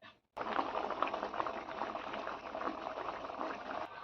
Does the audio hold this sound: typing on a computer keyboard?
no